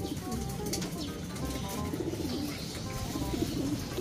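Pigeons cooing in a loft, soft repeated low coos layered over one another, with light rustling and occasional wing flutter close by throughout.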